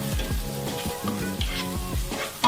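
Chopped garlic sizzles in a hot pan, a loud, continuous frying hiss with repeated stirring strokes, heard up close with no talking.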